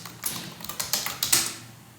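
Fingers type on a computer keyboard close up, a quick irregular run of crisp key clicks and taps with short pauses, with no talking over it.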